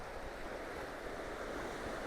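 Sea waves breaking over a stone pier on the Fife coast at St Monans, a steady broad wash of surf and spray with wind noise, continuous and moderately distant, no voices.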